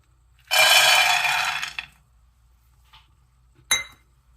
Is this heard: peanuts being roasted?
yes